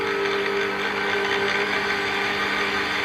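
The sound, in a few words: electric mixer running at low speed for muffin batter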